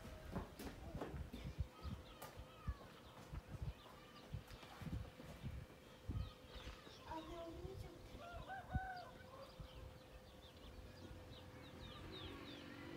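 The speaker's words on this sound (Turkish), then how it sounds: "Biraz size orijinal kuş sesleri dinleteyim." Chickens cluck and a rooster crows in a garden, the bird calls fairly distant and faint over a steady outdoor background with scattered rustling and knocks.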